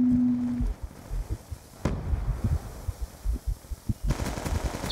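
Rapid bursts of gunfire in Call of Duty Black Ops 2, loud, punchy and close, firing in uneven volleys after a brief tone, with no voices.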